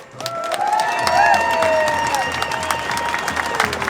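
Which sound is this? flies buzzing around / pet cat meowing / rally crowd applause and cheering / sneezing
rally crowd applause and cheering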